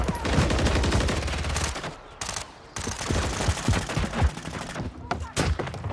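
Dense, continuous rapid-fire gunshots and bursts from a Call of Duty Modern Warfare 3 multiplayer match, loud and close, with a short lull midway before the shooting resumes amid the game's battle noise.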